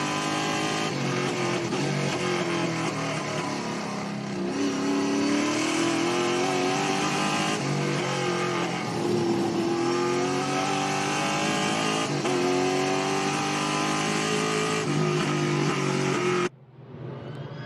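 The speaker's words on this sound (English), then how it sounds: "Great sounds, aren't they, from the in-car, Josh Thomas." A race car engine, heard from an in-car camera at Winton Motor Raceway, screams continuously from close by, its pitch climbing and dropping with each gear change, loud and unbroken until it cuts out near the end.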